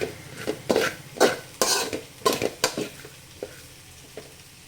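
Carrot rice being stirred in a pan on the stove, a spoon scraping and clinking in repeated strokes over a soft sizzle, close and fairly loud, then slowing to a few lighter taps.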